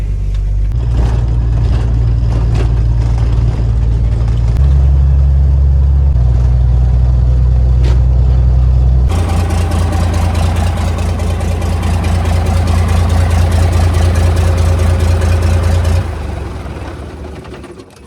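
A bus engine idles loud and steady, its low rumble stepping up in pitch with occasional revving to mimic faster running, then settling back before fading out at the end.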